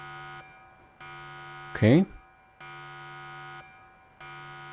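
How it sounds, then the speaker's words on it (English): An in-game alarm buzzer in Ravenfield drones in repeated long steady pulses with short gaps, while a voice briefly speaks over it in the middle. "When red sees you, when red sees the blue team, the alarm is activated."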